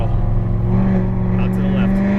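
A Corvette Z06 engine pulls hard on the Las Vegas Motor Speedway track, a loud sustained close-up drone held steady for a couple of seconds under a coach's voice.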